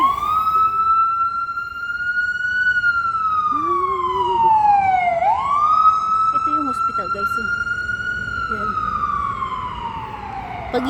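A wailing ambulance siren sounds loud and close, sweeping slowly up and down in one long continuous cycle over faint background noise.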